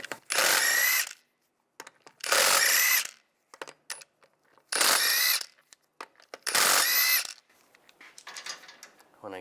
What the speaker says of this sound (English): use a 17mm socket, take the lug nuts off